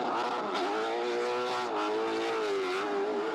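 A late model race car, a Budweiser Limited Sportsman, runs on the track at Danville during pole qualifying, its engine note loud and sustained with rising and falling pitch as it drives, no voices.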